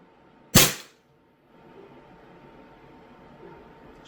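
A single sharp shot from a Sig Sauer 1911 Emperor Scorpion CO2 BB pistol with blowback action, 4.5 mm, a loud close crack that decays fast, followed by a quiet low room hum.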